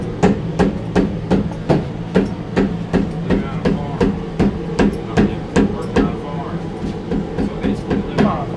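Sharp metallic strikes repeat in a steady, even rhythm, about two per second, over a low rumbling drone.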